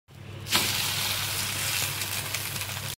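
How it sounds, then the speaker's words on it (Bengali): A chira (flattened rice) paratha dropped into a hot pan starts frying with a sudden hiss, then settles into a continuous close sizzle that holds steady until it cuts off. "আরোগুলো আছে ওগুলোকে ভেজে নেব"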